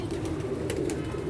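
Pigeons being let out of their coop coo in soft, continuous low warbles close by, under a faint hiss of outdoor background, with no voices.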